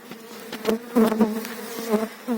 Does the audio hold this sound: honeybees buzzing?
yes